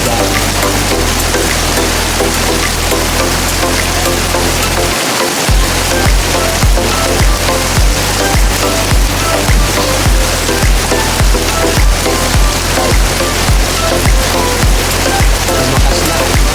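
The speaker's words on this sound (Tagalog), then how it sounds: "Lumakas na ulan." Heavy rain pours down steadily, a loud, dense hiss of drops drumming on a surface that continues without break, with some low thumps underneath and no talk.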